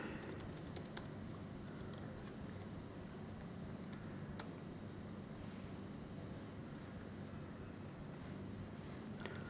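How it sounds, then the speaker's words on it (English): Laptop keyboard being typed on, the key clicks fairly faint and scattered through steady room noise. "you can see that I'm typing some function called as serial.begin"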